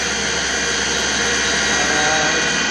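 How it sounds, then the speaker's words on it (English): An Atrump B5-FC CNC bed mill spindle runs at its maximum speed of about 4,000 RPM, giving a loud, steady, high-pitched whine with a constant airy roar and no break. "I want you to take it to max RPM"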